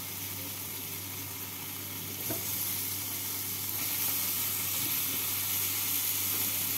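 Boiled, cut pieces of a medium potato fry in spiced masala in a pan, a steady close sizzle with occasional stirring scrapes that grows slightly louder partway through, with no speech.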